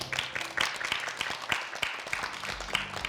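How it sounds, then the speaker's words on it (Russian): Applause from an audience at a youth talk event on clothing style, a steady patter of many hands clapping at moderate volume across the whole stretch, with some faint background voices. "Аплодисменты."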